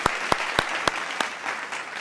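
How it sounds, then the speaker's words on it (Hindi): A hall audience at an Independence Day poetry gathering breaks into steady applause to welcome a poet, with a few sharper individual claps standing out near the start, then a dense, even patter. "एक बार जोरदार तालियों से स्वागत करते हैं सर्वेश त्रिपाठी जी"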